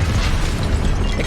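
A Confringo fire-blast spell from the Hogwarts Legacy video game, heard as a dense, sustained booming burst with heavy low rumble and broad crackling hiss, loud and continuous across the moment with no pauses.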